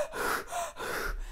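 A voice imitating panting and hard breathing, four quick gasping breaths in a steady rhythm, close and clear.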